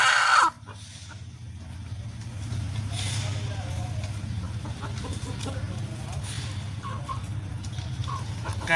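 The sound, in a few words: chickens clucking, 4-5 month old chickens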